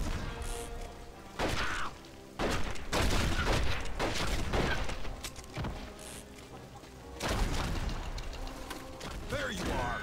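Gunfire in Red Dead Revolver bursts out in repeated loud shots and volleys with crashing impacts over a busy game soundtrack. Voices shout over the action.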